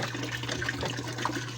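Water gushes steadily into a barrel from a hand pump, a continuous close splashing and churning with a low hum underneath.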